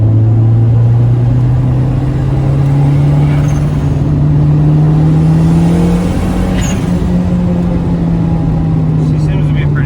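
Turbocharged Honda Civic cruising in third gear, its engine holding a steady loud drone that rises slightly in pitch as it dips into boost, with road rumble underneath throughout.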